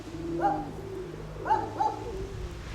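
A pigeon or dove coos in a few short rounded phrases, close and clear, with a pause between the first call and a quick pair near the end, over a low steady hum.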